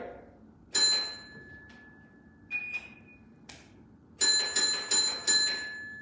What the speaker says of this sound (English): 4 bells, so I'm going to make sure that the points are locked in clearly.